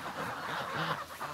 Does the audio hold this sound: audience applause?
no